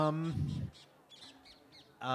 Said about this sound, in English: we can't do anything about the birds, we'll call it flavor